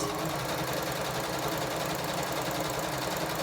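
A sewing machine stitches quilted placemat fabric in one steady, continuous run, a loud, even mechanical whir with no pauses and no voices.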